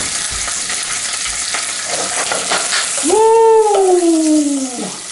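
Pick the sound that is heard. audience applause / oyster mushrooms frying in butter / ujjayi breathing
oyster mushrooms frying in butter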